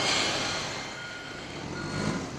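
A HIAB crane truck in a work yard sounds its reversing alarm, a steady repeating beep over a constant diesel engine rumble, with no talk.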